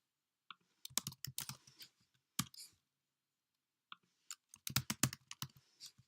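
Quick clicking keystrokes on a computer keyboard in two short bursts separated by a pause, close and fairly quiet, with no talk.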